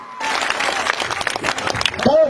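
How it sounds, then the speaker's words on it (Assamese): A burst of crowd clapping, dense and continuous, with a voice speaking loudly over it through a PA. "এটা জোৰকে হাত চাপৰি আদৰণি জনাবলৈ জনাইছো"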